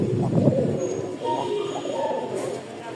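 Large pigeons kept for breeding coo in soft, low rolling calls, with faint chirps and someone talking over them.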